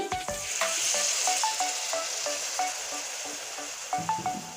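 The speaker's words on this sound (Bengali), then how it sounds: "এখন অল্প পরিমাণ জল দিয়ে দিচ্ছি" Water poured into a hot pan of frying spices with turmeric and chilli powder, sizzling loudly and steadily throughout, with a few light metallic stirring clicks over the hiss.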